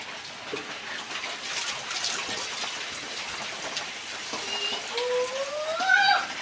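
Steady rain falls outdoors, a soft, even patter that swells slightly toward the end, with a brief tonal sound rising above it in the last seconds.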